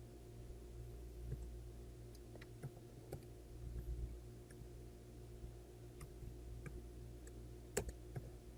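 Sparse, light keystrokes on a computer keyboard as a video title is typed, quiet scattered clicks over a steady low hum, no talking.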